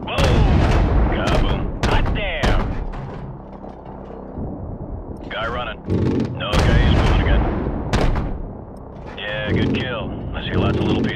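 Heavy aircraft cannon fire in Call of Duty: Modern Warfare Remastered, with repeated deep booming shots and rumbling impacts spaced a few seconds apart, loud and close, while radio-style voices talk between volleys.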